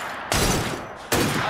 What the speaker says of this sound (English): That sounded like a second gunshot.